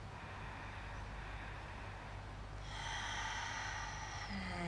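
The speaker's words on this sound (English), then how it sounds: "One more breath." A slow, deep breath taken during a quiet Pilates mat relaxation, a faint airy inhale and exhale heard close over a soft background hum.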